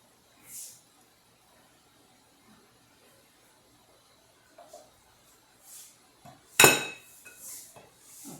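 A spoon works in a greased pie tin while making a chicken pie. Faint, scattered metallic taps and scrapes come through a quiet room, with one sharper clank near the end.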